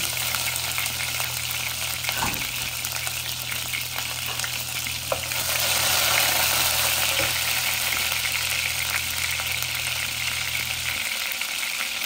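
Garlic cloves sizzling in oil in a pan for a Bengali meat and potato dish, a steady close frying hiss with a constant low hum underneath that cuts out near the end.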